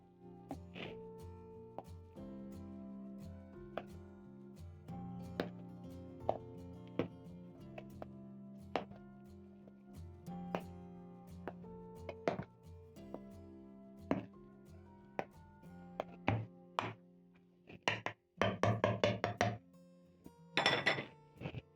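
Potatoes, maize and pumpkin-leaf puree being mashed in a pot for mukimo: repeated soft thuds and knocks of a masher against the pot, with a quick cluster of sharper clatters near the end, fairly quiet, over faint background music.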